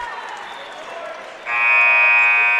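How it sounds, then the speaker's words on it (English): A loud, sustained final buzzer at a girls' high school basketball semifinal in a gym, cutting in halfway through and holding steady to the end over crowd noise and an announcer's voice. "And with that, your final buzzer"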